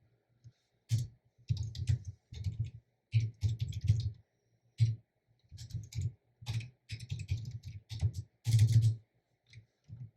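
Code is typed on a computer keyboard in quick bursts of crisp, close key clicks separated by short pauses, with no other sound around them.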